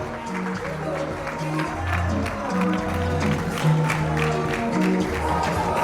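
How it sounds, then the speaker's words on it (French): An audience applauds the finale of a fashion show with steady massed clapping, heard beneath a continuous voice over a loudspeaker. "Et on applaudit pour le bouquet final."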